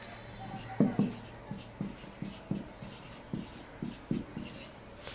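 Chalk or marker strokes on a board during a semiconductor physics lecture, a steady run of short taps and scrapes about every half second, close and fairly quiet with a faint hum behind.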